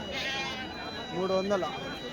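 A male goat bleats briefly amid steady background chatter from people talking nearby at a weekly sheep and goat market in Kadiri.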